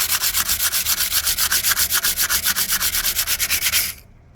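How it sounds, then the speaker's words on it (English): Fine sandpaper is rubbed back and forth over bare, previously rusted metal in fast, even strokes, about seven each second. The rasping is close and loud and stops abruptly near the end. "Now I'm taking a fine piece of sandpaper and I'm going to sand it down again."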